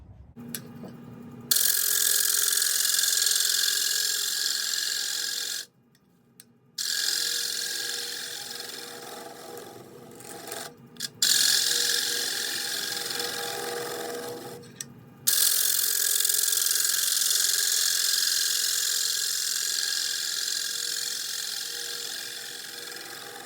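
Continuous abrasive sanding against a spalted red alder salad bowl, a loud steady rasp that stops briefly a few times before resuming, close by.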